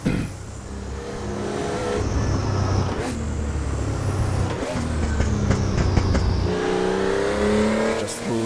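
A Porsche 911 GT2 (993) racing at Le Mans in Assetto Corsa, its engine droning loudly and rising through several revving pulls with gear shifts, close and continuous.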